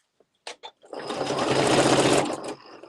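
A sewing machine stitches along the edge of a Luxe Cuddle fabric Fair Isle wrap, giving a few short starts and then one steady, close, loud run of motor whir that slows and stops.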